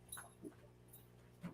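A dog, apparently feeling sick, gives soft close whimpers and short pants in a few brief bursts, faint against quiet room hum.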